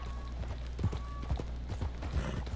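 Hooves of horses in a PS4 video game clop unevenly at moderate loudness over a steady low hum, with faint creaks mixed in and no talking.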